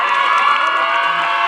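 Loud, steady cheering and applause from a school audience welcomes a woman poet to the stage at an annual-day comic mushaira, a dense unbroken roar of clapping and young voices throughout.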